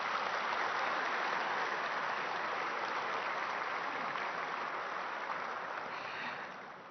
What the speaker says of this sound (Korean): 여러분 다시 한번 격려의 박수 부탁드립니다.